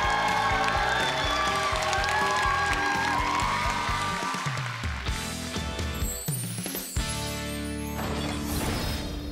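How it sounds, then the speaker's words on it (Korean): Studio audience applauding and cheering a singer on a Korean masked singing competition show, with a dense wash of clapping under lingering music that tapers off toward the end. "여러분 응원의 박수를 부탁드립니다"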